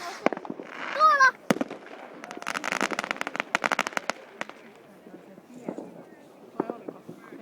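New Year fireworks over Vaasa, Finland, with a burst of sharp bangs and crackling pops at varying distances, scattered irregularly over several seconds while onlookers talk nearby.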